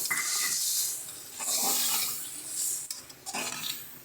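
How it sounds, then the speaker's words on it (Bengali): Water being poured into a pan of mustard fish curry made with bhola fish, heard as a close, steady splashing and gurgling stream broken by brief pauses, with a faint clink of the pan. "এবার আমরা পরিমাণ মতন যতটা জল লাগবে সেটা দিয়ে দিচ্ছি"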